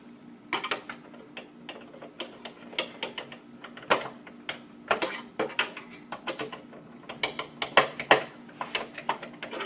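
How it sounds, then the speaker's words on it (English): A screwdriver tightens screws while a gaming and editing PC is assembled, giving irregular close clicks and ratcheting taps in quick bursts over a faint steady hum, with no talking. "I tighten it down until my screwdriver starts spinning on top."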